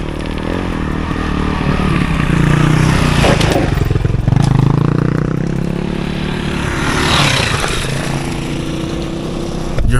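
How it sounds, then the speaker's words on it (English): Dirt bikes ride past, a loud, steady engine drone that swells as they pass close by around the middle and again near the end, with no talking. "Got the dirt bike bros coming down."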